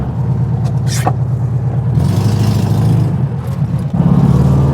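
A small 1972 Volkswagen Beetle engine runs close by with a steady, buzzy rumble that swells briefly as it revs.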